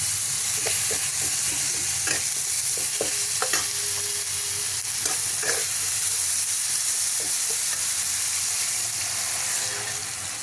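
Grated mango is stirred into fish frying in a pan, with a constant loud sizzle and repeated scraping clicks from the spatula through the whole stretch.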